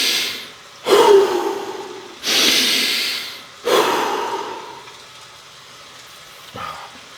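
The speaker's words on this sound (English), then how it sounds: "sometimes we're breathing too fast, we're not paying attention to how we breathe" A person demonstrates breathing too fast, with three loud, quick, rushed breaths close to the ear, each a forceful airy rush trailing off, and a fainter fourth one at the end; no words spoken.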